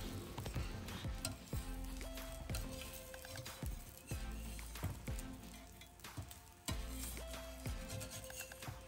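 A dosa sizzling on a cast-iron dosa stone, a soft, steady frying hiss under music, with faint scraping and tapping from time to time.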